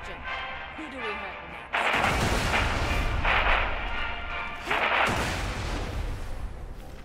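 Heavy booming cannon blasts in Borderlands: The Pre-Sequel erupt, two big rumbling bursts that swell and linger, following a quieter stretch with faint voices.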